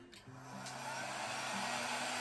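A hair-dryer-style blower used for fluid art switches on at a low cool setting, its steady whooshing airflow with a faint motor hum rising from near silence and holding constant, close by.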